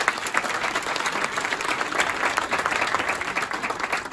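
Audience at a stand-up comedy show in Pigalle breaks into loud, sustained applause, a dense wash of clapping that holds steady from start to finish.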